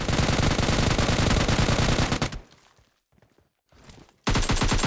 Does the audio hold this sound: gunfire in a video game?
yes